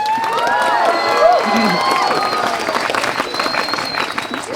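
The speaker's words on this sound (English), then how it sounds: "I think it deserves some applause." Campers at an opening campfire for Camp Hi-Sierra's 75th anniversary burst into applause with cheers and whoops, a lively crowd of clapping and children's shouts close by.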